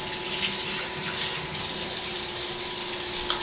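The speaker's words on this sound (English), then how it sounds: "Turn that water off." A household water tap runs steadily with a continuous hiss and splash, loud and close, with no talk.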